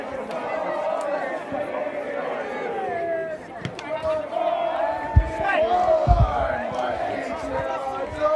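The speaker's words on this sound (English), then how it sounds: "Spencer Ingle walks off to absolutely rapturous applause." A crowd at a varsity match applauds and cheers in a continuous dense roar, with a commentator talking over it throughout.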